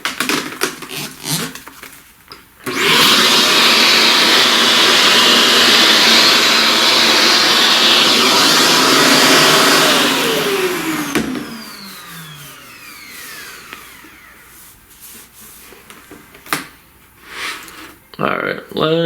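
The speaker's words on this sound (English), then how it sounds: "Let's vacuum all of this." A small vacuum cleaner sucking up loose pastel dust from a drawing, a loud steady whine that starts abruptly, holds for several seconds, then winds down, with a voice talking before and after.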